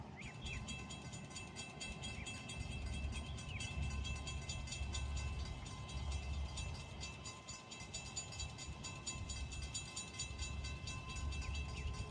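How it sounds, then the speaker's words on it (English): Amtrak's northbound Carolinian passenger train rounds a curve in Wilson, North Carolina, its steady rumble and rolling wheel noise filling the scene, with faint high wheel squeal along the curve. "Amtrak train number 80, the northbound Carolinian, on its way from Charlotte, North Carolina to New York's Penn Station as it rounds the curve"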